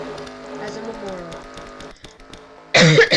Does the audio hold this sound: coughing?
yes